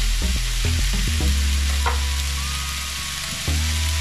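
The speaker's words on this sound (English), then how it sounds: "Give the butter a chance to melt in there." Butter melting in a frying pan before liver and onions are cooked, giving a steady close sizzling hiss under low droning hum and a few faint knocks.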